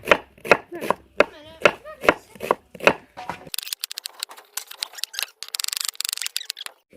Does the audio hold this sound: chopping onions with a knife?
yes